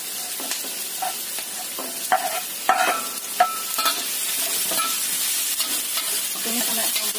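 Garlic and chili being sautéed with onion in a hot pan, a steady sizzle broken by frequent spatula scrapes and stirring clicks, close and moderately loud, with no talking.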